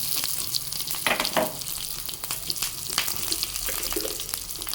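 Mustard seeds, cumin and dried chillies sizzle in hot oil, a close, hissing fry with brief sputters and a few clinks of a utensil, no voices.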